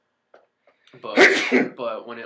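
A single sharp sneeze bursts out loudly after a brief quiet intake, followed by a voice speaking briefly.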